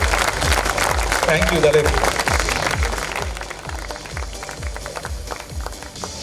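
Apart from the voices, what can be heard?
audience applause at a squash final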